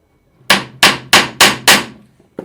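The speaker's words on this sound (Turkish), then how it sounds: "Şu kenardaki metal aksama vurabiliriz." Five sharp, evenly spaced hammer blows ring out against the metal base of an office chair, loud and close, followed by a faint sixth tap.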